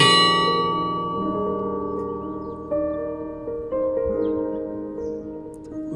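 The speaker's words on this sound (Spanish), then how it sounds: "cada vez que muere alguien, tocan esta campana. Un solo, un golpe duro y un golpe más leve." A single church bell tolls for a death, one hard stroke and then a lighter one, each ringing out in a long, shimmering decay that fills the quiet with no voices.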